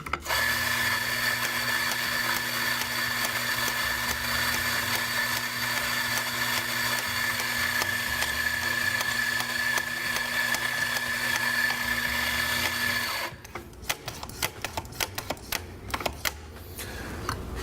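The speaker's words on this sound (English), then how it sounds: "we're going to start grinding by turning the grinder on and operating the dosing handle immediately." A coffee grinder runs with a steady, loud whir for about thirteen seconds. It then stops, and a run of sharp mechanical clacks follows as the dosing handle is pulled repeatedly.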